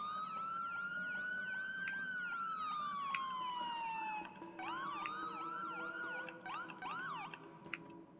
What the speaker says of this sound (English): So there's the sirens for the Jeep Wrangler there.